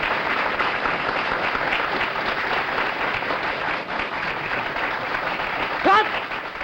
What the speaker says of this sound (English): Let's give me a sample of a good hand of applause, shall we?